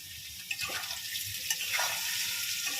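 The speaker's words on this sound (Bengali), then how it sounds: "আলুটা ভাজছি, ওর মধ্যে একটুখানি লবণ দিয়ে দিলাম" Potato pieces fry in hot oil with salt and turmeric, giving a soft, steady sizzle with a few stirring bumps. The sizzle stays fairly quiet and close throughout, with no talking.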